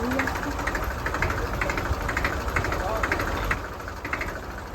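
A tractor engine runs steadily with a chugging, knocking rhythm near a farm where a mango tree has fallen, while people talk over it throughout.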